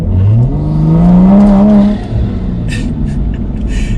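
A Toyota Supra engine is floored at full throttle, a loud rising roar that climbs in pitch for about two seconds before dropping off, followed by a lower rumble and faint tire or gear noises.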